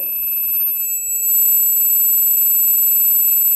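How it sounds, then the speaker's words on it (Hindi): A multimeter gives a steady continuity beep while its probes test pins on a vehicle ECM. The tone sounds as one sustained, close electronic note with brief clicks of probe contact at the start. "ये बीप आ रही है"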